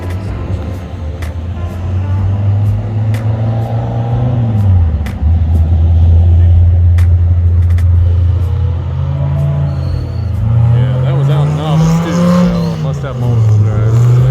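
A Corvette race car's engine revs out on a racetrack, a loud, close, continuous roar rising and falling through gear changes, with other cars audible.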